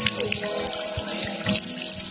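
Water gushes steadily into a spring pool at Lihim na Batis in Pinugay, Baras, Rizal, a loud close continuous splashing rush with small bubbling bursts.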